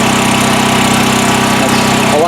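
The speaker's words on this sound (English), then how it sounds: "So here's the generator running." A portable generator runs inside an enclosure shed, giving a loud, steady engine drone with a constant low hum throughout.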